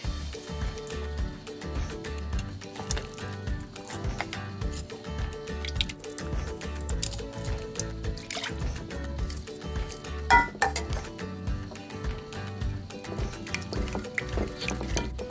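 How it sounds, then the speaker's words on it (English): Baking soda and water being stirred together in a bowl for homemade fluffy slime, with a steady run of soft clinks, scrapes and wet squishing from the utensil against the bowl, close and continuous. "So next we're gonna mix our baking soda and water together."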